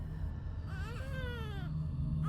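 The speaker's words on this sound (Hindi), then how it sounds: "एक रात प्रिया को लगा जैसे उसने बच्चे के रोने की आवाज सुनी।" A baby's thin, wavering cry rises and falls over a low rumbling drone, a short eerie wail used as a sound effect in a horror story.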